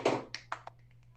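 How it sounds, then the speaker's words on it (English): A lone person claps three or four times, sharp and fairly faint, with a short unclear sound just before, against a quiet interview room. "It's very lonely clapping there."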